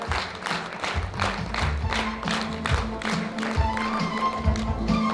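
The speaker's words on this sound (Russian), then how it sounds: "Громкие аплодисменты вам" An audience at a district awards ceremony in Gunib gives loud, sustained applause. Dense rhythmic clapping rolls on for several seconds over a faint background hum.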